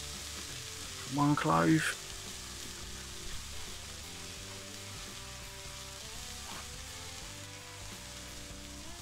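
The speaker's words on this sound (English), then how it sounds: "Everything's really starting to sweat down now." Onions and garlic sizzling in a pan for bacon jam, a steady soft frying hiss throughout with a brief louder clatter early on and a short spoken remark; faint background music.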